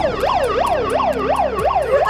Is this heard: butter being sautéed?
no